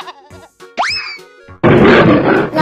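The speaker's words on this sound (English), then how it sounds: "Lion." Cartoon lion roar, a loud broad noisy burst in the final second that follows a springy boing and brief tonal sounds.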